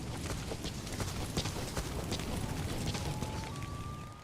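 Horse hooves in Metal Gear Solid 5 video game, a steady rapid clip-clop of galloping under a broad rushing background, with a rising whistle-like tone near the end.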